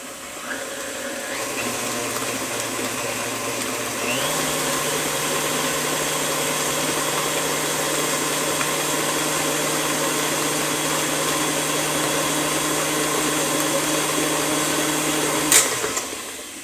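An electric stand mixer beating hot cocoa cookie dough with eggs and vanilla, a steady loud motor whir that steps up in speed after a few seconds and runs unbroken before stopping abruptly.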